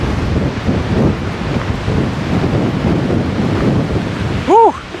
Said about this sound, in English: We got some wind coming through.